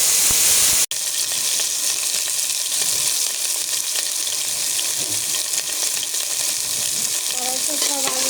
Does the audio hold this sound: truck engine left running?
no